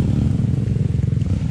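A motorcycle engine drones steadily and close on a muddy, slippery off-road trail, a continuous low rumble with slight rattling and no talk.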